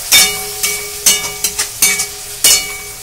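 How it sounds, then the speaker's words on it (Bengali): Tomato paste frying with onions in a pan for chana masala sizzles in sharp, hissing bursts about every half second, each flaring and fading as the mixture is stirred, close and loud. "টমেটোর পেস্টটা একটু কষে নেবো আমি পেঁয়াজের সঙ্গে।"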